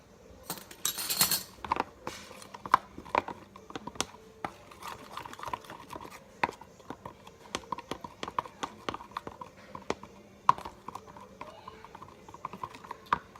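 Apple crisp filling with lemon juice and vanilla being mixed in a bowl, heard as steady, irregular clinks and scrapes of a utensil against the bowl, close and moderately loud throughout with no talking.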